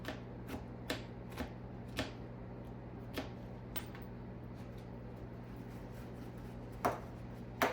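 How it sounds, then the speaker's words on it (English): A knife slicing through strawberries on a cutting board while making a strawberry cream cake, giving sharp, quiet taps at irregular intervals with a steady low hum underneath. "So I'm just drying and slicing the strawberries."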